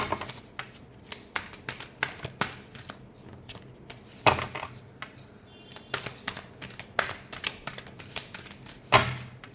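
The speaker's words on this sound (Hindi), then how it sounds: "last shuffle" Tarot cards are shuffled by hand in a series of quick riffling bursts and sharp slaps, irregular and close, with a few faint pauses between.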